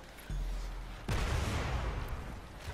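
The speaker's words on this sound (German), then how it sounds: "Granatwerfer nehmen." Grenade launcher fired in the video game Crysis Warhead, a sharp loud blast that cuts in abruptly and leaves a rumbling, crackling tail, with a softer thump just before it.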